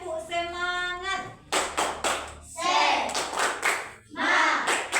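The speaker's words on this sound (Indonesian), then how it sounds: "kita tepuk semangat dulu ya" A school class of pupils claps a spirit clap together in rhythmic bursts, mixed with loud chanting voices and a sung tone, all close and lively.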